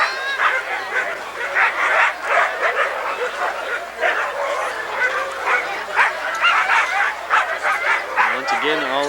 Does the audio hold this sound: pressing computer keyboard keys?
no